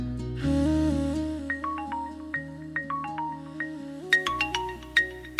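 A mobile phone ringtone plays an incoming-call melody, a bright electronic tune of repeated chiming notes over a sustained synth backing, clear and alone without talk.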